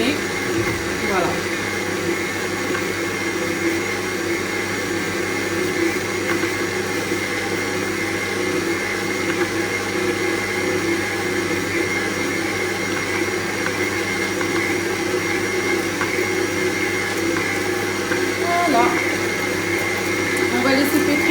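A stand mixer kneads brioche dough made with peanut powder, its motor giving a loud, continuous whirring drone that holds steady from start to finish, with faint clunks now and then.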